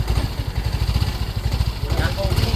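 A motorcycle engine starting up and idling after a repair in Tanay, Rizal, its low steady chugging pulsing throughout, close and fairly loud, with people talking over it.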